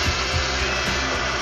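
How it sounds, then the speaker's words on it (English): Power drill running steadily and close, a continuous loud motor whine with a dense broadband buzz and no pauses, no talking over it. "And now what I want to do is I want to put the drill in."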